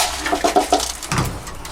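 Racing pigeons in a loft, back from a 550 km race, give several soft, low coos in a short run, close and clear with a little background noise and no talk.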